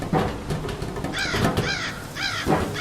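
Several harsh crow caws in the horror video game Left Alone, fairly close, sounding in a couple of quick bursts over a dim background.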